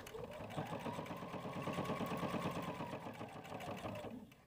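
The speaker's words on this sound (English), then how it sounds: "we are going to do a top stitch 1/8 inch around all of our finished edges." Sewing machine top stitching 1/8 inch around the finished fabric edges, a fast, even run of stitches lasting a few seconds before slowing to a stop; fairly quiet and close.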